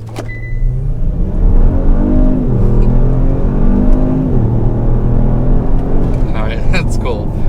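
A Kia Stinger GT fitted with BMS intakes accelerates hard, its engine rising and falling through gears with turbo spool and whoosh, loud and close, with a voice talking briefly near the end.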